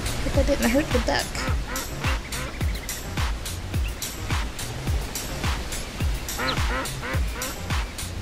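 A duck quacks in the virtual world of the Second Life video game, repeated nasal calls over a steady surf-like background while a person talks.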